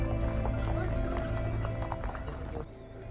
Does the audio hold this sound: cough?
no